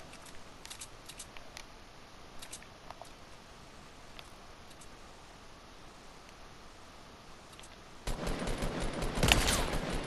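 Rapid bursts of gunfire in a battle royale video game, a dense rattling volley that swells loudly near the end after quieter scattered shots, with no talk.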